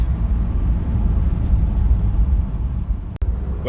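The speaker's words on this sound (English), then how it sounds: "It's just losing all power, pretty much stalling, misfiring." A Lexus LS430 engine struggling and losing power, a steady loud low rumble running throughout with a brief sharp dropout near the end as it nearly stalls.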